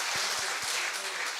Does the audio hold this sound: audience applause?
yes